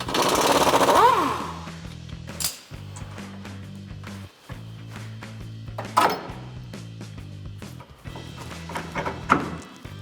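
An impact wrench with a 21mm socket loosening a shock bolt on a 1999-2018 Chevrolet Silverado 1500 during rear leaf spring replacement, several loud rattling hammering bursts separated by brief pauses and metallic clunks.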